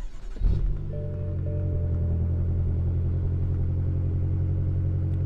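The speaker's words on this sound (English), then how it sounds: "Go ahead and turn the vehicle on," A 2016 BMW M6 coupe engine fires up with a push-button start, a quick rev flaring, then settles into a deep, steady idle rumble heard close up.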